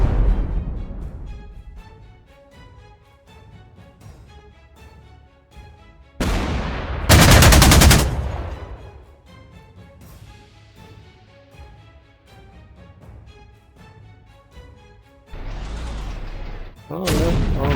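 Anti-tank guns fire in the Panzer Corps 2 wargame, with two loud booming shots several seconds apart standing out over quieter tonal game music and a softer later report.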